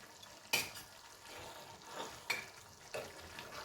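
Special masala chicken cooking in a pan over a low flame: a soft, steady sizzle with several distinct stirring scrapes and clinks at uneven intervals, close and fairly quiet.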